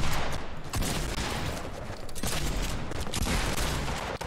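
Dense, loud gunfire from the video game Fortnite, Disco Domination mode: rapid overlapping shots in a near-continuous barrage with a few brief gaps.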